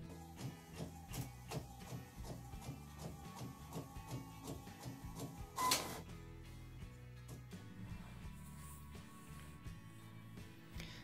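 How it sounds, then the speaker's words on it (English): An Epson printer prints a sublimation image, giving quiet rhythmic mechanical clicks and shuttling thumps in a steady repeating pattern, with a brief louder rattle midway. "So next thing I need to do is just send it off to the printer."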